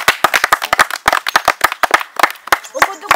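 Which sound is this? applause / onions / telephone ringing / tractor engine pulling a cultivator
applause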